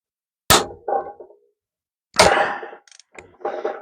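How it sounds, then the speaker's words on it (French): Socket wrench tightening nuts on a mini gearbox gives sharp metallic clanks, two loud hits spaced apart, each trailed by softer ratcheting rattles and short clicks, close up with no talking. "là le bruit qu'on entend, c'est le bruit de la clé"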